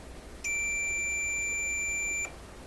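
A continuity tester gives one steady, loud high-pitched beep of nearly two seconds while probing the switch circuit of a Crosley 43FB farm radio, over a faint background hiss.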